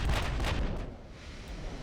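Heavy naval gunfire from battleship guns in the video game Ultimate Admiral: Dreadnoughts, a loud continuous rumbling boom with a burst at the start and another swelling near the end.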